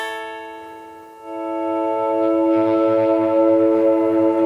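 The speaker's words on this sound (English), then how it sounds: "I've got a lot of delay on and reverb on the swells part" Electric guitar played through a Line 6 Helix swells in on a volume pedal, a sustained chord rising softly with heavy delay and reverb into a wide, washy ambient tail that keeps building and ringing.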